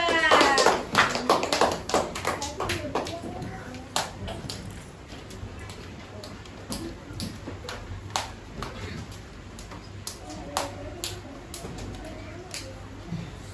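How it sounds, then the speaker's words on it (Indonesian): Scattered clapping from a small class group, brisk at first and then thinning into sparse, irregular claps. "Tepuk tangan buat kelompok 2."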